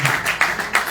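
Clapping from an audience greets guests at an exhibition opening in Tijuana. Short rhythmic bursts of applause come in quick pulses, moderately loud and close.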